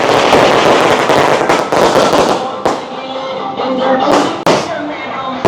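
Firecrackers at a goat festival in Jaffna crackle in a loud, dense volley of rapid pops, with a few sharper bangs near the end and crowd voices mixed in.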